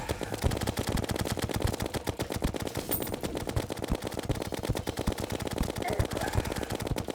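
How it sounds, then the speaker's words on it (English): Rapid automatic gunfire from homing bullets in the video game Terraria, a dense continuous stream of shots rattling at a steady fast rhythm, loud and sustained throughout with game effects layered in. "These bullets help out a lot. I can kind of just shoot left or right and they home in on him"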